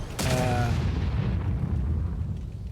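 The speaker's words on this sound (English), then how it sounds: "Wow, that is a powerful sounding tank." A powerful tank cannon blast in World of Tanks Modern Armor, a loud booming report that rolls into a long low rumble lasting a couple of seconds.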